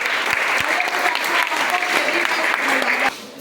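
Congregation at a French-language church service applauds loudly, a dense steady clatter of many hands that continues for about three seconds before cutting off abruptly.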